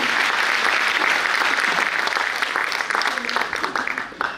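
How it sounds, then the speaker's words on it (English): An audience at a college alumni inauguration gathering applauds, a dense, loud round of many hands clapping that thins slightly toward the end, with faint voices mixed in. "So let's give them a big round of applause."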